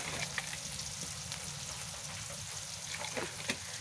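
Chicken frying in a pan over a home clay stove, a soft continuous crackling sizzle with a few stirring clicks near the end, quiet and close, no speech.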